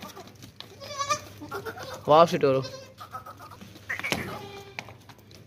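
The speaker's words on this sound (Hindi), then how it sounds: "2 बच्चों वाली बहुत ज़बरदस्त बकरी है" Nagra breed goats with kids bleat several times at a goat market in Pakistan, the cries close and loud amid steady background chatter and someone talking.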